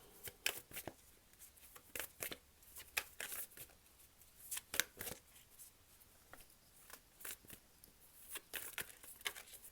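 Tarot cards being shuffled during a reading, giving a soft, continuous papery riffling with repeated sharper flicks and snaps, close and fairly quiet, with no talking.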